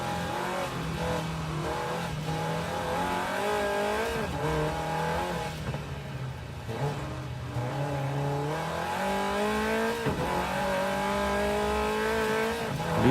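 A race car engine heard from the cockpit view in Wreckfest 2 revs up through repeated gear changes, with tire squeal mixed into a steady, fairly quiet roar.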